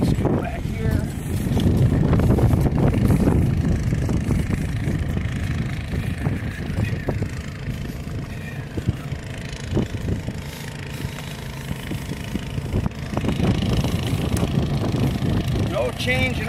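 A 300 GPM skid-mounted fire pump engine runs at a steady drone in the back of a fire truck, its low rumble continuous throughout with wind buffeting and people talking over it.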